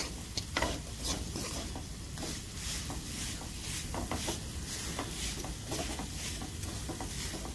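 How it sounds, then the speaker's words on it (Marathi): A spoon works melted jaggery and grated coconut together in a pan, making a steady, soft scraping and sticky patter with a faint sizzle, close and continuous, with no talking. "गूळ छान असा वितळवून घ्या, एकजीव करा खोबरं आणि गूळ"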